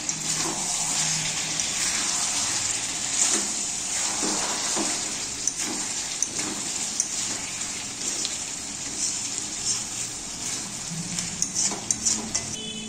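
Water is poured into a pot of chicken with fried potatoes. It makes a continuous rushing splash with bubbling and sizzling near the pot, and no one speaks.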